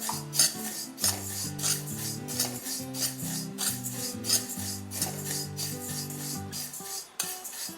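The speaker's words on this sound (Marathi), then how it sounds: "आपण एक कढई गरम करून घेतली आहे त्यात ही बडीशेप आपल्याला घालायची आहे आणि मंद गॅसवर थोडासा कलर चेंज होईपर्यंत आपण ही भाजून घेणार आहोत" Fennel seeds roasting in a heated kadhai over a low flame, giving a steady dry scraping and rustling as they are stirred, with repeated rhythmic strokes and occasional clinks of metal, close and fairly quiet with no talking.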